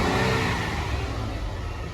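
Ram TRX pickup engine revving while parked at a Copart salvage yard, a steady mid-pitched rumble that holds at a fairly constant level for the whole stretch, with no voices over it.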